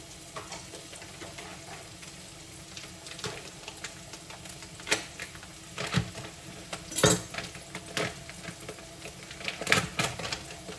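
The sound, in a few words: garlic sizzling in pan before adding gnocchi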